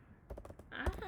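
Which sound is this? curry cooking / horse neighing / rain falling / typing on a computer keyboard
typing on a computer keyboard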